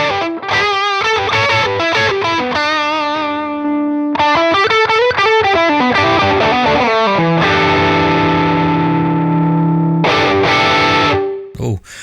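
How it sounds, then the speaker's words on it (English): Electric guitar run through a Line 6 HX Stomp with a slight drive boost, playing chords and sustained lead notes with a mildly overdriven, chorus-tinged tone, loud and close, with no one talking. "So here's my slightly more driven sound."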